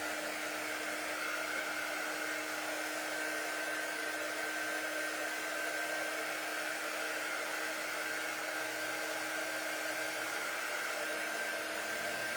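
A hair dryer blows steadily on a crafted tee-shirt design still on its sticky backing, a constant whooshing hum with a faint whine that holds at even volume throughout, no talking.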